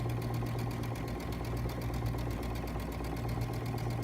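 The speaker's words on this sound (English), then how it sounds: "So I'm going to stitch that, and I'm going to go right down." Sewing machine stitching a straight line, a steady fast mechanical whir with regular needle clatter running evenly and close throughout, no talking.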